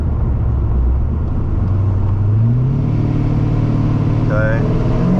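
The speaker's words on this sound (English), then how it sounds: "So wait for this car to come by." A car approaches and passes at a roadside, its engine note climbing and swelling into a loud, close rumble before easing off, with a steady low road roar throughout.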